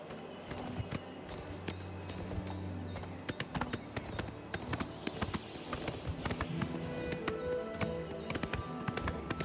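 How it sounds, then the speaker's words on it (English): Horse hooves clip-clopping in Oblivion Remastered, a steady run of sharp hoof clicks close up, growing busier and more irregular as it goes, over a low background drone. "I'm so used to riding a stolen horse in Oblivion"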